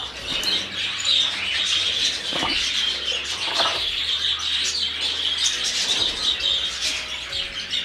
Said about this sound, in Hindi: ये है बजरी तोते की कॉलोनी।